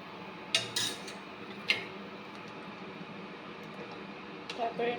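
A spoon stirs turmeric and salt into mutton biryani in a pot, with a few sharp metallic clinks and scrapes early on over a low room hum, then quieter stirring with a faint voice in the background.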